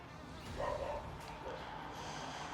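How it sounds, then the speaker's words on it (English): A dog barks a few times in the background, faint and somewhat distant, beside a Ninja Woodfire Grill being readied for smoking meatball sliders; a voice is also present. "Shut up, dog."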